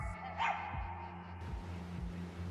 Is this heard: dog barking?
yes